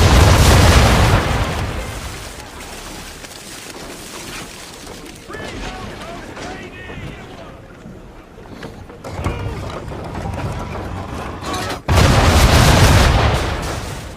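Ship cannons fire round shot in a naval battle in Assassin's Creed 3 Remastered, loud broadband booms at the start and again near the end, with a voice speaking between volleys.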